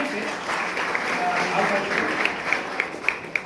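Sustained applause from a school audience at a lecture honors a student who came first in tenth grade, a steady wash of clapping with a few sharper claps standing out near the end.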